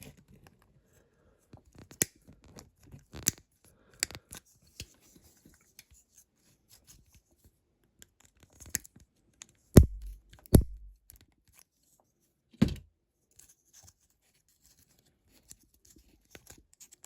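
Scissors cutting out the passenger seat of a Matchbox Jaguar XJ12 toy car, heard as a few scattered close snips and crisp snaps separated by quiet gaps, with light handling rustle between cuts.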